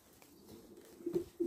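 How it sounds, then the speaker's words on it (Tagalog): Racing pigeons cooing softly nearby, a few low throaty coos rising near the end over quiet background. "ito naman si Splash mga kalapatids."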